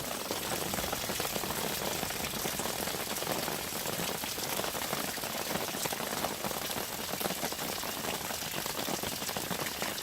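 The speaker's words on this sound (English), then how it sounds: "It does seem to be raining out here." Steady rain falls outdoors at night, a dense continuous patter on surfaces that stays loud and even throughout with no voices.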